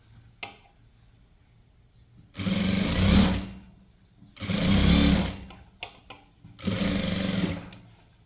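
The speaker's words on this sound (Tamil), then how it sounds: "அடுத்து வந்து ஐப்பட்டி தச்சிடலாம்" A sewing machine stitches a blouse hook strip in three loud, close runs of rapid whirring, each a second or two long, separated by quiet pauses with small clicks.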